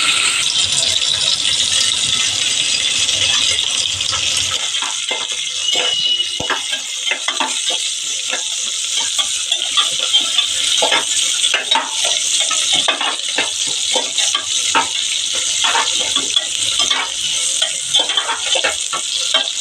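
Onions sizzling in hot oil for tomato rice, stirred with a spoon against the pan in steady scrapes and clinks over a constant loud frying hiss, close up and with no talking.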